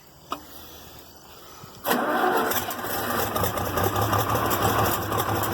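Farmall 706 tractor starting cold with no choke: a click, brief silence, then the engine catches at once and settles into a steady, loud, rumbling idle.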